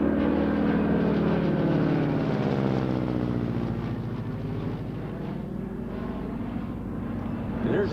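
An FG-1D Corsair warplane at an air show in Geneseo drones past with a deep, steady propeller roar whose pitch slowly bends as it passes, loud and continuous throughout.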